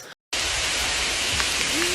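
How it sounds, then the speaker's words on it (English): Hail pelts the ground outdoors on a hike in a dense, steady hiss of pattering ice that starts abruptly after a brief silence and stays loud and close. "It's hailing right now."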